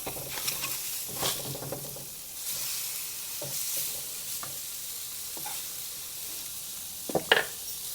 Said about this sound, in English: get back over here on this grill. I'm going to flip these over.